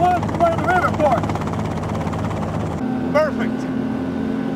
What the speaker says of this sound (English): Put the chopper down at the river.